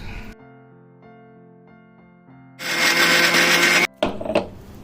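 An electric blender pureeing tomatoes: after a quiet humming tone, the motor kicks in with a loud, harsh whirring roar for about a second, stops abruptly, then gives a shorter second burst.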